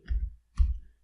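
A computer mouse clicked while working in Siemens NX CAD software. Two short, close clicks come about half a second apart against silence.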